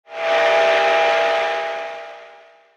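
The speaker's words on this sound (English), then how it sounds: "I decided to add horn sound from the real-life locomotive just to add an Easter egg" A single long blast from a real steam locomotive horn, a bright chord-like whistle that swells quickly, holds, then gradually fades out over a couple of seconds.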